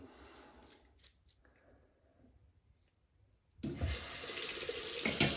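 A 1961 Gillette Fat Boy safety razor is rinsed at a sink: a few soft clicks and quiet handling, then a tap turns on and water runs loudly and steadily under it.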